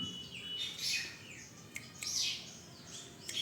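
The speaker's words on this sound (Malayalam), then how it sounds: "കിളികളുടെ ശബ്ദമൊക്കെ കേട്ട് ഇങ്ങനെ ഇരിക്കുകയാണ്." Small birds chirp and tweet in short bright calls, several overlapping, over a soft outdoor background; no talking.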